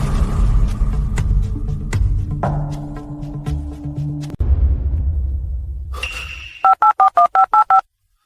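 A telephone number is dialed, ending in a quick run of about seven evenly spaced keypad tones, loud and clear, after a stretch of low, dramatic background music and a couple of soft whooshes.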